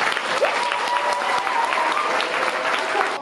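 Strong, dense applause from a concert audience giving an ovation to a choir, loud and sustained with crowd cheering mixed in, filling the whole moment.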